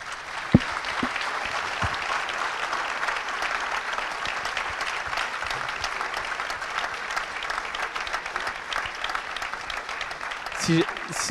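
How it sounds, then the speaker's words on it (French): Loud, sustained applause from a large audience at an agricultural conference fills the whole stretch, dense and steady, with a few sharper claps near the start and a voice breaking through at the very end. "Tonnerre d'applaudissements."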